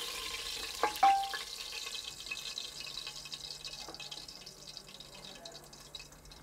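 Cumin seeds sizzle in heated oil in a cooker with a soft, steady hiss, marked by a couple of sharp clicks and pops near the start.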